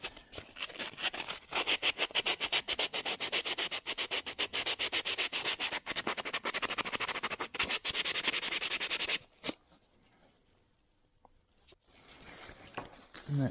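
Doubled-over 600 grit sandpaper rubs rapidly back and forth on a car's electrical contacts, a loud rasping scrub for about nine seconds, then a quiet pause before a brief faint scrape.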